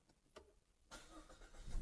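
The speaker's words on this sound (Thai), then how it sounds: "ขออนุญาตเหยียบเบรกแล้วก็สตาร์ทนะครับ" A 2022 Mazda2 1.3 SP hatchback engine starts after a near-silent pause: the starter engages and the engine catches, then builds to a steady, louder running rumble, recorded close.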